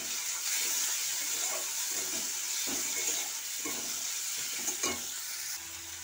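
Chopped tomato, garlic and onion sizzle steadily in a hot frying pan while being stirred, with scraping strokes and bubbling hiss throughout.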